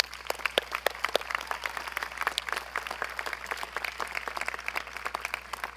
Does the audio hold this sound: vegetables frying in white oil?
no